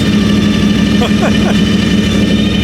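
A loud drag car with a wheelie bar runs steadily at a car show, its engine rumbling continuously, with people talking over it.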